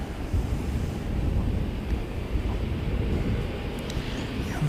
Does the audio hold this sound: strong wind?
yes